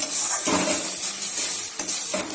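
A thick paste sizzles and fries in a pan while a utensil stirs and scrapes it, a steady close hiss broken by a few sharp metal scrapes against the pan.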